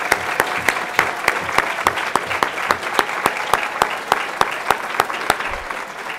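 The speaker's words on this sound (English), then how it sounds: "A round of applause for everybody who took part in the Baileys this year." Audience applause at a college oratorical competition, a steady wash of clapping with sharp individual claps standing out, sustained and fairly even throughout with no talk over it.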